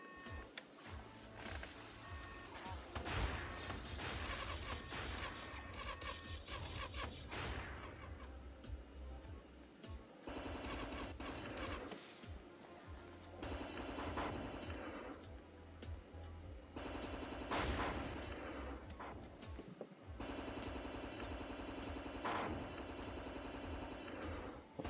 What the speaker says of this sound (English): I'm using the strength of that flamethrower there, or the end cannon.